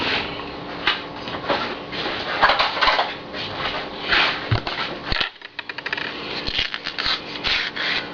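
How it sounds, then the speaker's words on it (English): A knife thinly slices a ripe banana on a board: a continuous close run of soft crunching and rubbing strokes, then a quick series of sharper taps near the end. "show you how to thinly slice a banana"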